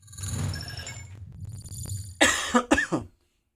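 A man hosting a live online news show coughs several times in quick, harsh bursts close to the microphone, following a stretch of muffled rustling and breathy noise, then falls silent.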